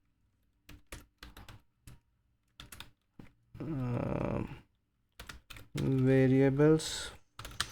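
Someone types a code comment on a computer keyboard in short irregular bursts of close key clicks, with someone speaking between the bursts.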